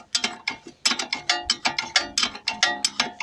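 A ratchet wrench unfastens bolts while a constant velocity joint is being fitted: rapid, evenly spaced clicking bursts, close and fairly loud, with no talking.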